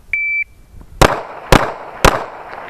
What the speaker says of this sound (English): Inside ready position, punch out and fire three.